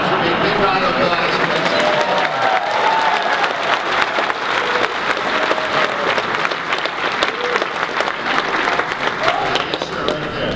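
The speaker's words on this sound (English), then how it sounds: "Big round of applause" A convention audience at a horror fan event gives a loud, sustained round of applause, dense continuous clapping with crowd noise and cheers running the whole time.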